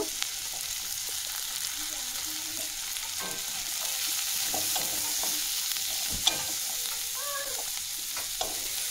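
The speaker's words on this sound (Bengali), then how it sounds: "এগুলোকেও দিয়ে খুব ভালোভাবে একটুখানি ভেজে নেব।" Steady oil sizzle and crackle as garlic, cashews and ginger fry, with occasional stirring scrapes and a sharp clink, the frying continuing evenly throughout with no talking.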